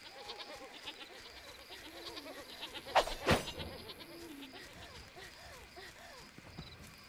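Goat in the video game Baldo, a brief loud bleat-like burst in the middle over a soft, steady game ambience.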